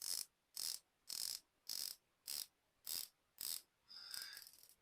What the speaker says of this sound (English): the bezel action.